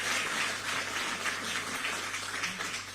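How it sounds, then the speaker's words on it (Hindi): An event audience applauds steadily, a continuous patter of many hands at moderate distance with a low hum underneath. "जोरदार तालियां बजें"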